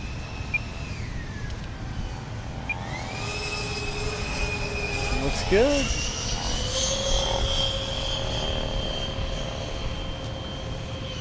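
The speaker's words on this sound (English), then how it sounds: "Nice slow flyby." A large scratch-built RC 747 airliner model powered by four 90mm electric ducted fans makes a slow flyby at an outdoor model airshow, a steady whining fan drone with shifting pitch, with brief talk from nearby spectators.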